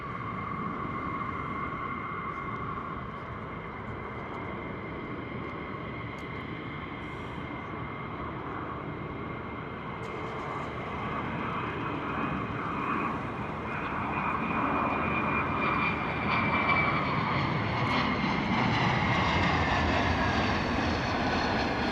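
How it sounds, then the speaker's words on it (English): A US Air Force F-35 jet approaching RAF Lakenheath rumbles with a steady broadband roar and a faint high whine, swelling gradually louder toward the end as it nears. "F-35 coming in."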